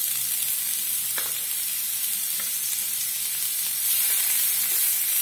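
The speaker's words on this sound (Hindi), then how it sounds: "तेल गरम हुआ है, उसमें प्याज डालते हैं।" Chopped onions frying in hot oil in a pan for lentil dal gravy, giving a steady, close sizzle with a few soft stirring clicks.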